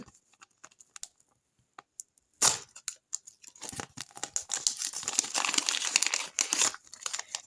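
Paper crinkles and rips as packets are opened up close, starting with scattered ticks then becoming continuous rustling and tearing.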